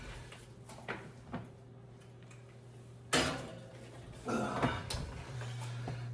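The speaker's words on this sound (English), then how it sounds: "Okay, now I'm gonna get this back into the oven." Costco chicken parmesan goes back into the oven as dish clatter, a door thump and rack noises sound over a low steady hum, with a loud clunk midway and more handling after it.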